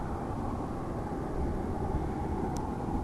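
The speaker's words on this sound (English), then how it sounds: "The Pitts S1S, a nifty little biplane" A Pitts S1S aerobatic biplane flying at an airshow, heard as a steady broad roar of engine noise washing over the scene, distant and moderately loud, with no voices.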